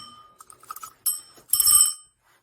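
An old doorbell, one of four kept for a cabin, rings in a few quick metallic trills that build to a brighter, louder final ring before stopping, heard alone with no voices.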